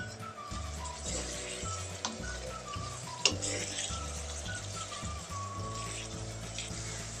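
Spice paste with turmeric powder fries in a pan, giving a steady, close sizzle and bubbling with a few sharp clinks of stirring, no voices over it.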